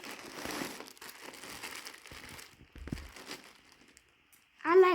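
A sheet of paper crinkles and crumples close by as clothes are unboxed, in several short rustling bursts with pauses between them and a louder scrape at the end.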